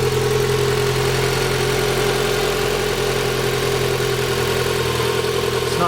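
A car engine with a heat-wrapped turbo downpipe and dump tube runs at a steady, even drone throughout, close and continuous with no talking.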